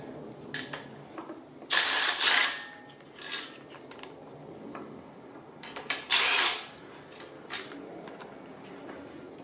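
Socket wrench on 13mm bolts of a Nissan Leaf EM57 motor and inverter, giving short bursts of ratcheting clicks and metallic clatter in two main clusters with quieter handling noises between.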